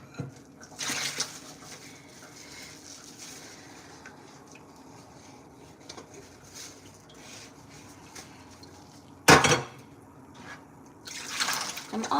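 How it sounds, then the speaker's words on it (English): Dishes being washed by hand at a kitchen sink, with soft water drips and splashes, faint rubbing, and a few louder clatters and bursts of running water spread across the clip, heard fairly close with no talking. "I'm almost done my dishes."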